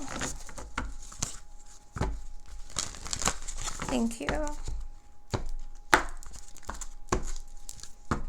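A tarot deck is shuffled by hand in a quiet room, giving close papery riffles and snapping card bursts interspersed with a person speaking.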